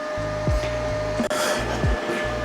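An angle grinder works on the back side of a welded steel DIY jack mount, its motor droning steadily with repeated brief pitch dips as the disc bites into the metal, close and loud without any talk.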